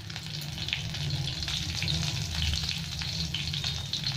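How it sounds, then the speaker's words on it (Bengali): Nigella seeds and green chilies frying in oil for a tomato fish curry, a dense, even crackling sizzle held steady throughout, close by with faint stirring and no speech. "এখানে কালো জিরেটা দিয়ে দিলাম তেলের মধ্যে, সাথে দুটো কাঁচা লঙ্কা কাটিয়ে দিয়ে দিচ্ছি।"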